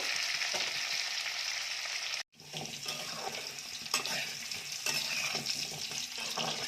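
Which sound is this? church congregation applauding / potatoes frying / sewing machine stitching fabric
potatoes frying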